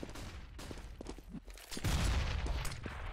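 M4 rifle fire in a Counter-Strike match, sharp close bursts of shots with scattered footsteps and other gunfire in the mix, louder and denser toward the end.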